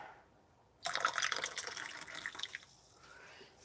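Water poured into an MRE tray, a splashing trickle that starts abruptly and runs for about two seconds before thinning out, fairly faint and close.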